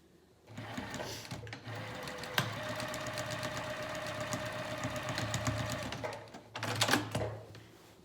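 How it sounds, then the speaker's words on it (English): A sewing machine stitches a pocket on pajama pants, running in a continuous whirring burst of several seconds between brief stops and starts, close and fairly quiet with no speech. "Sewing the pocket from top to bottom."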